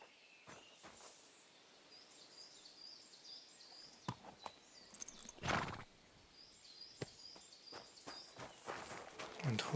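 A horse in the video game Kingdom Come: Deliverance 2, heard faintly through outdoor ambience with insects and birds, with soft hoof steps, scattered clicks and a short snort or whinny-like burst partway through.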